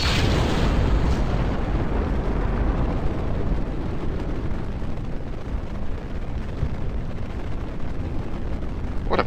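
A rocket launches in Kerbal Space Program, its engine giving a continuous, loud, broadband roar that stays steady and dense throughout, close and unbroken, with no talk over it.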